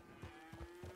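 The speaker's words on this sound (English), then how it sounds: "Well, hello, donkey." A donkey in Red Dead Redemption 2 gives a low, rough bray in three short pulsing heaves within a second, faint under a steady in-game hum.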